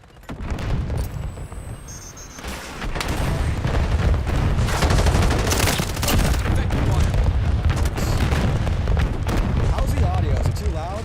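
Heavy artillery fire in a modern military shooter game, a loud, sustained roar of booms and rumbling explosions that builds after a brief quieter opening and stays dense under scattered game voices.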